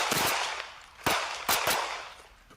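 Police gunfire crackles from news footage: a few sharp, loud shots in quick succession, with one near the start and others spaced about half a second apart.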